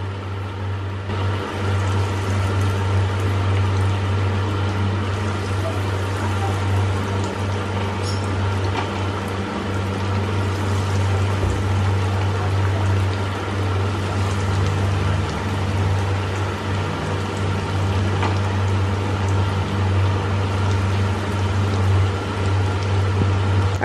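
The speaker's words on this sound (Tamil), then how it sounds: "அதை எடுத்து ஒன்று ஒன்றா அப்படியே லேசாக எண்ணெயில் போட்டு பொரிச்சிடலாம்" Vegetable cutlets deep-frying in hot oil, a steady, dense bubbling sizzle that runs loud and unbroken with a constant low hum underneath.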